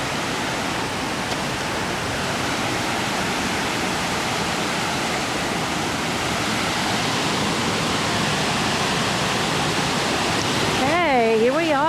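A swollen stream or waterfall at Short Springs, Tennessee, running high after recent rain and giving off a loud, steady rush of water without a break. Near the end a voice starts to come in over the roar.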